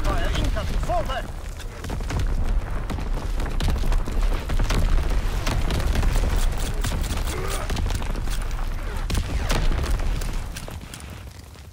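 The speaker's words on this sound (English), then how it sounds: "Incoming enemy artillery! Get to cover! Enemy mortar fire incoming!" Enemy mortar and artillery fire in a video game, a steady barrage of booming blasts and bursts rolling over dense battle noise, loud and continuous.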